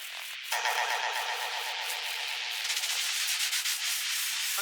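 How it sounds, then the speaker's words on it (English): A broad hissing noise swell bursts in and sustains, rough and washy with a faint rhythmic flutter, like a splash of filtered static. "I have a signature sound effect that I like to use. It's a noise splash effect"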